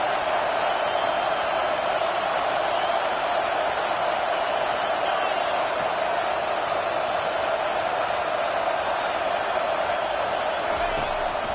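Football stadium crowd cheering at a college game between Florida State and UNC, a dense, steady roar filling the whole stretch at high volume, with faint commentary beneath.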